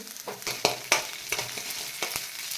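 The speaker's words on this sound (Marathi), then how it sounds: "आता हा कांदा दोन मिनिट भाजून घ्यायचा आहे त्यानंतर अर्धा चमचा आले लसणाची पेस्ट घालायची आहे" Onion frying in oil with ginger-garlic paste for a spinach paratha meal, a close sizzle with rhythmic spatula scrapes and taps against the pan, no voices.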